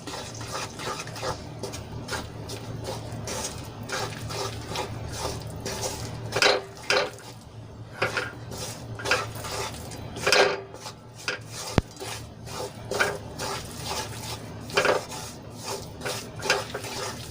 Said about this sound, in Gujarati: એમાં આપણે લોટ એડ કરી લઈશું અને સરસ રીતે આપણે ઘીમાં એને મિક્સ કરી લઈશું